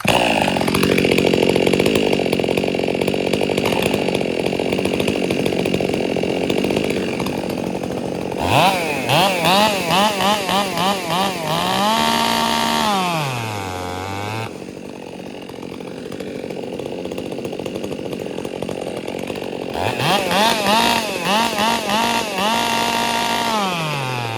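Ripsaw 400c saw cutting through a log, loud engine buzz climbing and dipping under load across two long cutting bursts separated by a quieter lull, close up.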